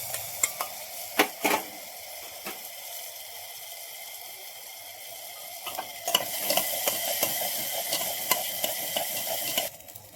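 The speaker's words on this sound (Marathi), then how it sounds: "मसाला मस्त परतून घेऊ." Masala stir-fried in a pan for stuffed brinjal, a sizzle that turns louder and denser halfway through, with sharp scrapes and knocks of a spatula and a brief trickle of liquid.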